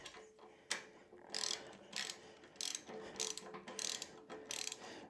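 A ratchet tightens the seat bolts on a Triumph Bobber motorcycle, giving several quick bursts of rapid clicking separated by short pauses, close and fairly quiet.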